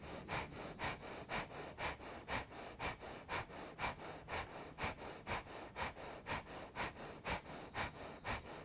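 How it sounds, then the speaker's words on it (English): Rapid, rhythmic breath of fire during a Kundalini and vinyasa yoga flow: sharp, evenly spaced breaths about three per second, close and steady for the whole stretch, with no talking. "breath of fire."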